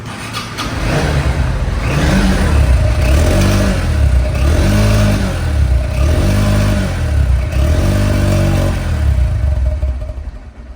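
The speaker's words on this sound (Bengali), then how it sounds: "এবিএস বাইক সাউন্ড কোয়ালিটি শুনলে আরও অবাক হয়ে যাবেন" Honda X Blade ABS motorcycle engine revving loudly and close, with repeated rising throttle blips in a steady rhythm over a continuous idle.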